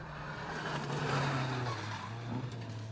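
A BMW Compact rally car runs a special stage at a distance, its engine note rising and falling as it passes, fairly faint, with no talk over it.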